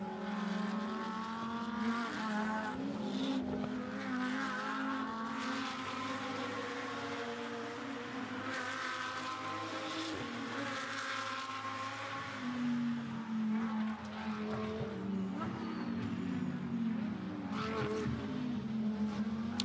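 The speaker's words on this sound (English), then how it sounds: "Out of Bruxelles goes the Porsche, and here Leonardo Gorini, 2nd in class" Race cars, a Porsche among them, roar past continuously during a circuit race, engine notes rising and falling over steady crowd-like ambience with no talk, loud and sustained throughout.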